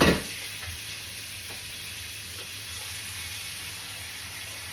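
Ham steak frying in a pan on low heat at a home brunch, giving a steady soft sizzle and hiss that runs unbroken after a brief louder start.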